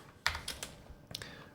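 Several quick keystrokes on a computer keyboard while entering Python code for a finance data analysis project, close and clear, in small uneven bursts with brief pauses.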